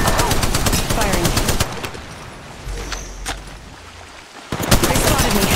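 Rapid bursts of automatic gunfire in a mobile shooter game rattle loudly and continuously, pause into a quieter stretch with a single shot, then resume in dense volleys.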